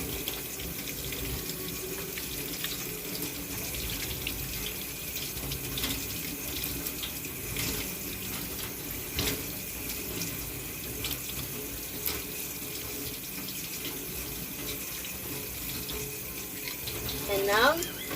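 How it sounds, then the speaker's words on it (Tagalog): A tap runs steadily into a sink while hands are rinsed under the stream, a close, continuous splashing wash with small shifts in flow and no talk. "After this, you can now rinse your hands with water."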